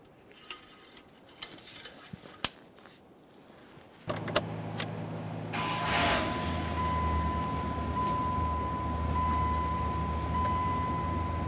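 A 1994-2001 Dodge Ram 1500 pickup is started after a transmission fluid refill: scattered clinks and key jangles come first, then the engine cranks and catches into a steady, fairly loud idle with a high whine.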